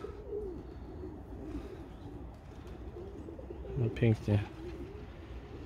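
Pigeons cooing by their loft, a few soft, low coos rising briefly near the end over quiet outdoor background, with someone speaking a brief phrase.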